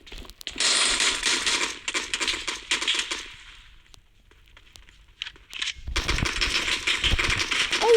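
Video game gunfire from a Kar98 bolt-action rifle: dense, loud bursts of crackling shots and clatter, then a brief quieter gap before another sustained volley near the end.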